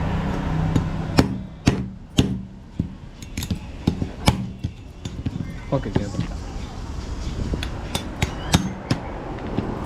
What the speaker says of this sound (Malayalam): ഇപ്പം നമ്മുടെ ഞണ്ട് ഭയങ്കര ഹാർഡാണ് കേട്ടോ. അപ്പോൾ അത് നമുക്കിങ്ങനെ പൊട്ടിച്ച് തരാണ്.